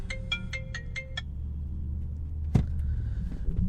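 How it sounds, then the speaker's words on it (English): A phone rings with a short burst of repeated electronic chirps over a low rumbling hum like a car interior, then a single sharp click or thump follows. "my fucking phone won't stop ringing"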